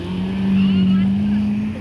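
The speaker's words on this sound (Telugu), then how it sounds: "Jet ski." A jet ski engine drones steadily on open water in the Maldives, a loud close buzzing hum that swells slightly mid-clip, with wind noise around it.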